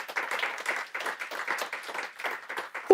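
An audience at a functional programming meetup applauds after a talk, a fairly close, steady patter of many hands clapping for a few seconds.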